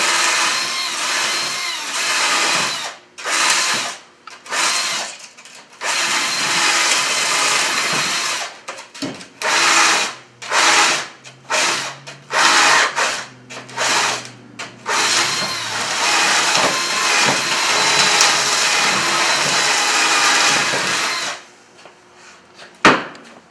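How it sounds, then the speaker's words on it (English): A power drill fitted with a circular rasp widens a hole, running in loud, rasping bursts of varying length separated by short pauses, with a final long grinding stretch before it stops. "Circular rasp, widen it out and get the shape where we want it."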